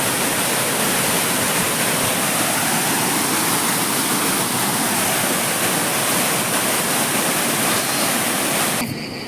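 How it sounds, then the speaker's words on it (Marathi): Raging water pouring down a waterfall in spate, a loud, dense, continuous roar filling the whole clip close by, cutting off abruptly at the very end. "हा बघा पाणी, बघा पाण्याचा रुद्र होता."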